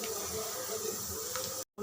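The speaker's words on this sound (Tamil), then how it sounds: "நல்லா கொதிக்குது." A pot of green mango curry bubbles and hisses steadily at a rolling boil, a close, continuous simmering sound that cuts off briefly at the end.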